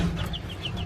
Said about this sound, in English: I think you're a rooster